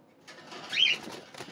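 Caged birds on a farm flap their wings in a short, close flurry that swells in the middle and then fades.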